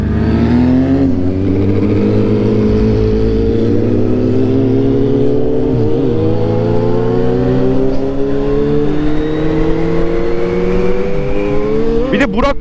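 A Kawasaki Z800 motorcycle engine revs steadily while riding, its pitch climbing gradually with brief dips at gear changes, loud and close throughout with wind noise.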